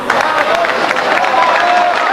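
Pool hall crowd applauding a run by Efren Reyes at the 1999 World 9-Ball Championship, a steady wash of clapping and murmuring voices that holds evenly loud throughout.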